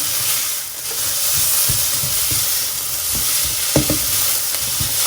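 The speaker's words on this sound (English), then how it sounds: "Get that nicely sealed in with the oil. Nicely browned. Get these mushrooms cooked a little bit." Mushrooms and grated carrot fry in oil in a pan, giving a steady, close sizzle with soft scraping and stirring clicks throughout, and no voices.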